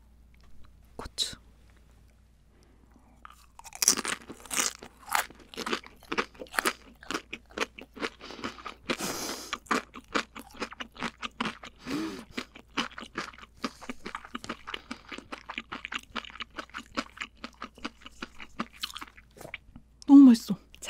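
Close, crisp crunching and chewing of air-baked gambas with shrimp, garlic and chili, rapid bites and mouth sounds in dense bursts for most of the stretch, with soft whispered talk at the start.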